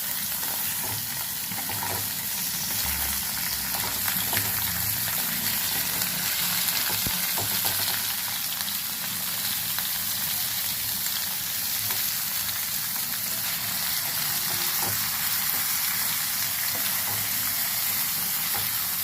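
Brinjal and potato pieces fry in oil in a kadai with a steady, dense sizzle and occasional stirring scrapes, continuous and close.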